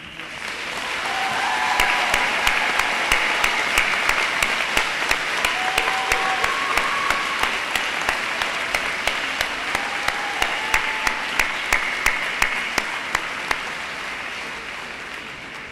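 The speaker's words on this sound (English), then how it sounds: "We need to give all of our graduates one big round of applause." Audience at a university honors convocation applauding graduates, a dense sustained roar of clapping from a large crowd, with one person clapping sharply and rhythmically close by throughout.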